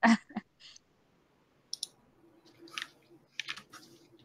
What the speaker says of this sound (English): I can hear that typing even through the stream